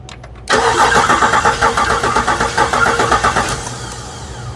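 A car engine with a jammed lifter cranks over steadily for several seconds, a loud rhythmic churning of starter and compression pulses with no one speaking, then tapers off.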